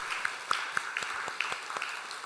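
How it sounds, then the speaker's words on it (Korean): A church congregation at a Sunday worship service gives a light round of applause for a deaconess. The claps are scattered and moderately distant in a reverberant hall. "우리 박수로 축하하도록 하겠습니다."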